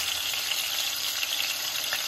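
Cabbage frying in a pot gives a steady, dense sizzle with bright crackle throughout, close and even in level with no voices.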